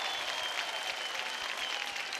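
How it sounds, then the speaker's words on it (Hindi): Studio audience on a televised singing competition show applauding, a dense, continuous patter of clapping heard fairly softly and evenly for the whole short stretch. "तो जोरदार तालियां हो जाए।"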